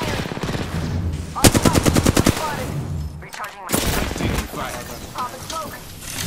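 Gunfire in the video game Apex Legends: a rapid burst of about ten close, loud automatic shots, followed by more scattered firing and game effects, with a voice heard in between.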